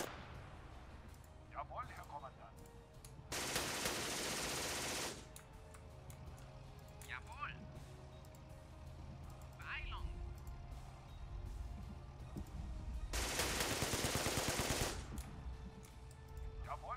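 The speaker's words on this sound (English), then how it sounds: "We will just open fire and hope we can get a lucky shot." Two long bursts of rapid automatic gunfire in a WWII war video game battle at St. Pierre du Fresne, each lasting a couple of seconds, with quieter game ambience and faint voices between them.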